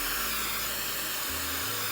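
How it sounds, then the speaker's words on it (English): A hair dryer on its cool setting blows with a steady, airy whoosh, then shifts to a lower, quieter hum near the end. "With the blow dryer on cool."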